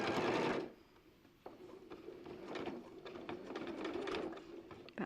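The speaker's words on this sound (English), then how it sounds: "So starting on the front, I'll sew to the corner, and I'll sew about 1/2 inch from the corner." Sewing machine stitching fabric toward a corner, a close, fast mechanical rattle that starts, pauses briefly, then resumes in bursts, with no talking over it.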